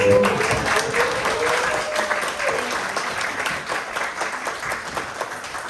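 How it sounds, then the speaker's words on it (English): A crowd applauds steadily, the clapping loud at first and slowly thinning out over several seconds. "Can we have just one more round of applause for her?"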